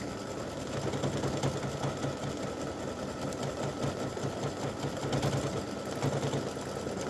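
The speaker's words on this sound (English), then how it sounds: "it's going to go around and do that last little bit of satin stitching" An embroidery machine satin-stitches a freestanding lace awareness ribbon, its needle running in a fast, steady mechanical chatter at close range with small rhythmic surges, no voices over it.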